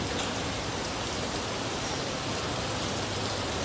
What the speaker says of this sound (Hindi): देखिए बारिश बहुत तेज़ हो रही है